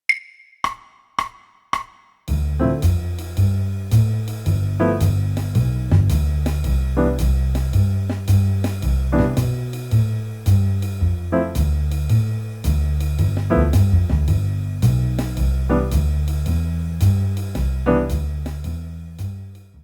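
After a few count-in clicks, a steady jazz backing groove in C plays a major 2-5-1: walking bass, comping chords and swinging drums repeating a short cycle.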